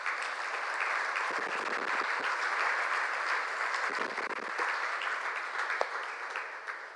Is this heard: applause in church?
yes